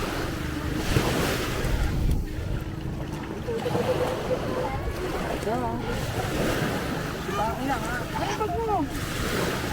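Surf washing into a beach cove at Nagsasa Cove, Zambales, at midday: a steady, fairly loud roar of waves mixed with gusty wind noise on the microphone and a few faint chirping sounds, with no clear talk.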